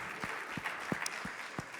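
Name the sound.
audience applause for presenters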